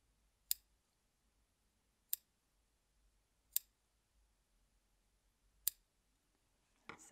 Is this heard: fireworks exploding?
no